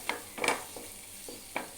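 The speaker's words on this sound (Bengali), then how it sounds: "এখানে আমার মশলা কষানো হচ্ছে" Spice paste fries and is stirred in a pan while cooking okra and shrimp, with soft sizzling under a few quick scraping stirs and light clinks, fairly faint and close.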